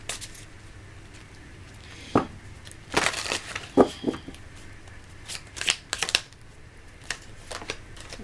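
Oracle cards being shuffled by hand, a string of soft riffling flutters and slaps in irregular bursts, close and fairly quiet with no talking over them.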